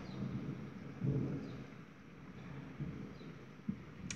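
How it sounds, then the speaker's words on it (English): Thunder from a storm heard from inside a room near a large window, a faint low rolling rumble with a couple of soft swells over quiet background noise. "This is all about thunderstorm."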